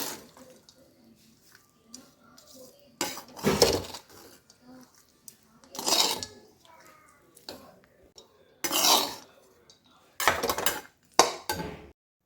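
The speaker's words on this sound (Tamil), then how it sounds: "ரைஸை வந்து நல்லா மிக்ஸ் பண்ணி விட்டுக்கலாம்." Lemon rice being mixed in a pot, bursts of spoon scraping and clattering against metal in several separate rounds with quiet pauses between, close and moderately loud.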